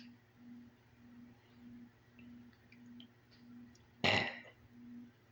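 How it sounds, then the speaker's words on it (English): A single short, fairly loud burp from a person breaks a quiet stretch of low background hum. "that was a different burp"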